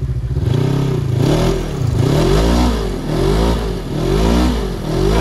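A Polaris snowmobile engine revs repeatedly out in the snow, loud and close, surging up and dropping back in uneven pulses with a rough mechanical clatter.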